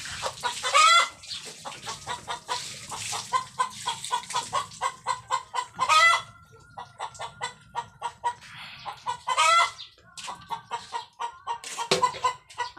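Chickens cluck in quick, uneven bursts close by, with a few louder squawks breaking through the steady pecking chatter.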